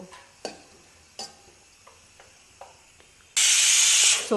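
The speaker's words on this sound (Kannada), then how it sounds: "1 ವಿಸಿಲ್ ಕೂಗಾಗಿದೆ" A pressure cooker holding sabudana kheer lets out a loud sustained hissing whistle near the end, after several sharp clanks and knocks of kitchen activity.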